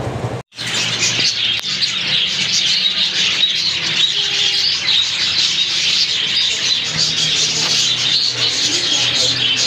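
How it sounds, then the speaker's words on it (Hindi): Loud, busy bird calls chatter continuously, with shrill chirps and squawks layered over faint background noise. "तोते पीछे बहुत ज़्यादा शोर कर रहे हैं।"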